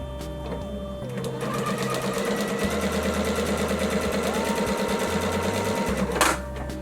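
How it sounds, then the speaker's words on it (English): A sewing machine stitches a binding strip onto fabric, running steadily, its needle hammering in a fast, even mechanical rhythm with a low motor hum, ending in a brief louder clatter. "Again, we're sewing right down the line."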